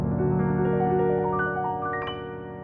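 A piano rings out a cascading two-hand augmented triad arpeggio with the sustain pedal down, notes climbing and blending into a dreamy wash, close and alone.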